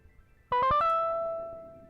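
A dry synthesizer patch built from a square and a saw oscillator with some resonance and pulse width modulation, played with no effects, gives a short burst of four quick plucky notes and then one held tone that slowly fades, alone.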